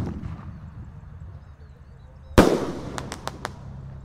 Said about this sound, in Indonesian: Di sini ada Bima Sakti 4 Romaine Candle guys. Kita nyalakan. Ini 2 kali ya, di bawah dan di atas.